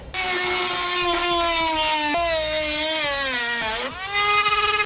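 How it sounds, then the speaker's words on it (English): A power tool whines steadily while trimming a corner of the plastic grille opening in the front fascia of a 2017 Chevrolet Equinox, its pitch sagging under load and rising again near the end. The sound is loud and continuous, with no talk. "we need to trim away a slight corner area right here"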